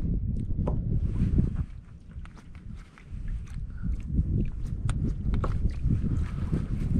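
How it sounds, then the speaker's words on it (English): Wind buffets the microphone at a rock cliff reservoir during bass fishing, a steady low rumble of gusts throughout with brief lulls and scattered clicks and knocks, no talking. "Really wish this wind would go away."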